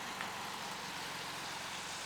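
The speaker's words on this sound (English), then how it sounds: "Just the sound of the air-cooled engine." An old air-cooled Volkswagen Beetle engine idles at a distance, a faint, steady low rumble with an even throb and no other sounds.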